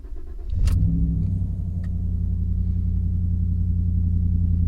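A V8 pickup truck engine cranks and catches, then settles into a steady, deep idle rumble that continues close and loud with no talking.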